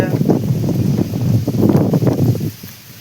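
Strong wind gusts buffet the microphone in loud, rumbling bursts that ease off near the end.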